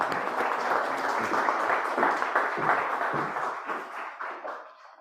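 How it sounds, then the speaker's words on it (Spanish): Audience clapping at an autumn research seminar, a dense steady round of many hands that holds strong and then thins and fades toward the end. "Un aplauso, Gracias. por favor."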